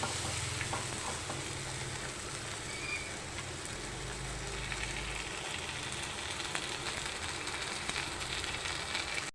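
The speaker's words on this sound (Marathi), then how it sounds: "आता आपण शेजवान चटणी टाकून घेऊया" A steady, soft sizzle of masala pasta frying in a pan as Schezwan chutney goes in, continuous frying crackle throughout with a low hum beneath and no voices.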